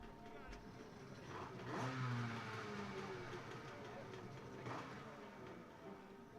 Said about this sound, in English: riders got their engines fired up